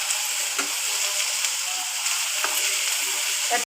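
Steady sizzling of onions frying in a pan, a dense hiss with occasional stirring scrapes, close and fairly loud, no voices.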